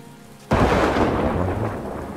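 Thunderstorm in the video game Farthest Frontier: a sudden loud thunderclap breaks into steady heavy rain that keeps hissing throughout, with no voices.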